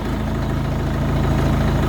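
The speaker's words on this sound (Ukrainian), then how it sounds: "спроба номер 2 провести тест-драйв на тракторі" A Bulat 504 50 hp tractor engine runs steadily at idle, a close, loud, even low rumble with a constant throb and no voices.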